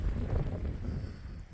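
Wind gusting across a snowy Yellowstone National Park trail, a steady low roar of buffeting against the microphone with no voices, continuous throughout.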